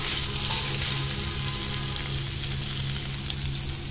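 Potatoes and taro root fry in desi ghee for a fasting-day meal, producing a dense, even, close sizzle that holds steady throughout with no pauses.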